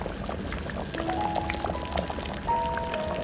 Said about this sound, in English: I think we just need to add a little bit of water to it.